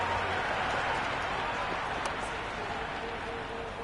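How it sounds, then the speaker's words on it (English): Broad roar of a large cricket stadium crowd cheering at a Pakistan vs India T20 World Cup match, a continuous wash of distant noise with scattered shouts and claps. "Will you listen to that crowd? They are loving this."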